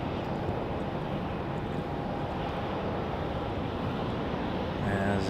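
A UPS cargo aircraft departs Raleigh-Durham airport at night, a steady, loud broadband jet roar filling the whole clip without letup, rising slightly at the very end.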